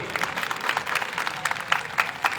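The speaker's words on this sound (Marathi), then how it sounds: "मी सर्वांना एकदा जोरदार टाळ्या वाजवण्यासाठी आमंत्रित करेन." A crowd applauds at the opening ceremony of a district council employees' divisional sports meet in Akola, with brief, dense, moderately loud clapping throughout.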